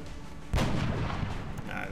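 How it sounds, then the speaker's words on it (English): A single heavy gunshot bursts out of the X-Com video game, booming suddenly after a brief quiet lead-in and then trailing off into a rumbling decay. "I better off just firing at him."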